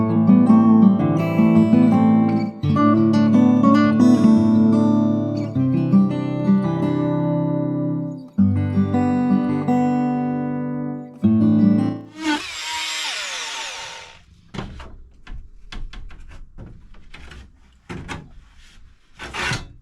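An oscillating multi-tool cuts through wooden supports during a Ford Transit camper van window fitting, giving a sustained buzzing whine with shifting pitch, then a short harsh burst and a few scattered knocks.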